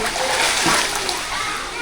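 Water poured out and splashing steadily, a dense continuous wash of spatter close by with a voice faintly underneath.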